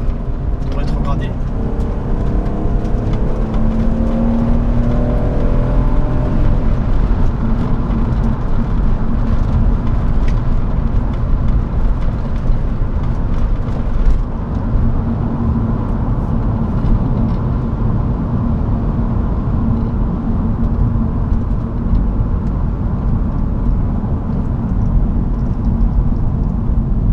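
A 1998 BMW 323i E36 Touring with the M52 straight-six and automatic gearbox drones steadily while driving, a constant low engine hum with road noise heard from inside the car.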